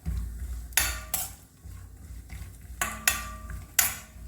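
Cashews frying in ghee in a pan for besan laddu, stirred with a utensil; a few sharp metallic clanks and scrapes ring out over a low background, with only faint sizzle.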